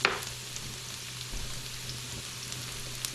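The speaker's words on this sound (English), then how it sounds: "I'll saute my garlic first. The onion, I'll throw in a few minutes there." Garlic sautéing in a pan, a steady soft sizzle and crackle with faint pops throughout, close and moderately quiet, no talking.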